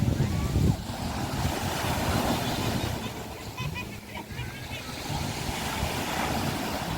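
Surf breaks and washes along the beach at Koh Larn island off Pattaya, a steady roar of waves with wind buffeting the microphone and a faint boat engine in the background.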